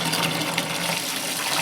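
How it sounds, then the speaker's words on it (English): Tap water gushes steadily into a Good Ideas compact twin tub washing machine, a continuous broadband rushing fill that stays loud and even throughout, with no talking. "Now I'm just using water from the tap."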